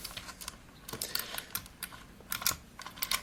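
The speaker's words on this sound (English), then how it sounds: "You can hear the buttons just clicking." Arcade joystick controller buttons click in quick, irregular runs of light plastic taps, close and fairly quiet, during the building of the controller.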